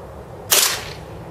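A single sharp shot from a Marushin M2 carbine airsoft gun running propane gas and firing a heavy 8mm BB, a crisp close crack with a short hissy tail and nothing else around it.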